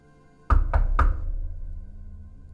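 Three sharp, heavy knocks on a door at a steady, quick pace, loud and close, with a low ringing decay fading afterward in a quiet room.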